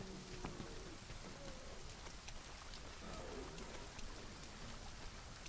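Steady rain in the video game Monster Hunter World hissing down continuously, a dense broadband patter with a faint low rumble underneath and no voices.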